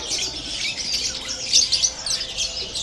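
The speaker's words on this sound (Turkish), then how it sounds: "güzel renkli kuşlar var burada" Colorful exotic birds chirp and squawk in a busy, overlapping chorus of high calls, fairly close, with no one speaking.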